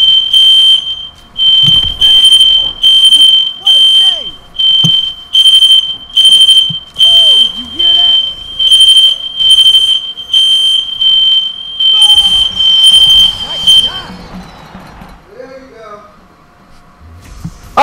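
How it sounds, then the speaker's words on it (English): A kitchen smoke alarm set off by burnt food blares in loud, evenly spaced bursts of high shrill beeping that stop abruptly near the end, with people talking and moving around underneath. "my roommate apparently burnt the food in the kitchen and the fire alarm went on"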